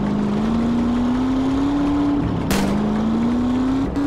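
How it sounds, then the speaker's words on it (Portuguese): In the GTA multiplayer roleplay game, a fast car's engine drones at a steady, slowly rising pitch, with a brief gear shift or dip midway and a short burst of noise, loud and close, no voices. "aquele carro lá é muito rápido"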